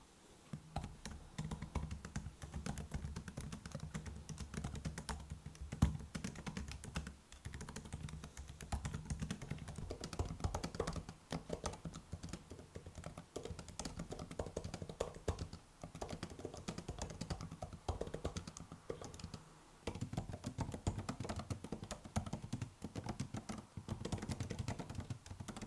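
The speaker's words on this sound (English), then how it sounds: "here's how the keyboard sounds" Fingers type steadily on a MacBook Air M2 laptop keyboard, a dense, close run of soft, rapid key clicks with brief pauses, continuing throughout with no talking.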